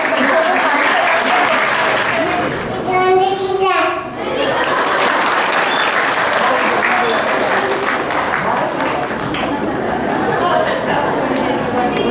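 Children and adults at an Independence Day school culture programme applaud at length, loud dense clapping with chatter and young voices mixed in and a brief whistle-like tone early on.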